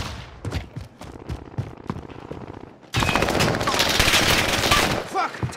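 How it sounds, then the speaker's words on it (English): Gunfire in Call of Duty: Modern Warfare, with a few single shots and voices followed by a dense, loud barrage of rapid automatic fire. "Taking fire!"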